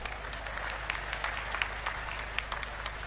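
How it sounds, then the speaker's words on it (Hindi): A crowd at a gathering claps steadily for a few seconds, a dense, even patter of many hands at moderate volume with scattered sharper claps standing out, and no talking over it. "एक बार जोरदार तालियां इनके लिए भी मार दीजिए।"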